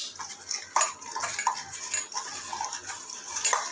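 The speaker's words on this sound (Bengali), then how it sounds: "নুন দিয়ে এটাকে ভালো করে মেখে নেব" Sliced pointed gourd being tossed with salt in a bowl, giving light clinks and scrapes of a utensil against the dish at an irregular pace, close and fairly quiet with no speech.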